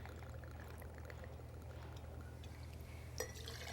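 Martin Miller's gin, 1.5 ounces, being poured into a measure for a gin cocktail with house-made bitter lemon and soda: a faint, steady liquid stream over a low hum, with a small clink near the end.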